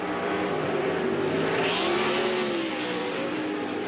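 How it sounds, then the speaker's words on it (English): Off-road race trucks at a 2007 CORR Las Vegas event battle closely, their engines roaring loudly with rising and falling revs as they race past, steady and near throughout. "Three-truck battle for the trophy right now."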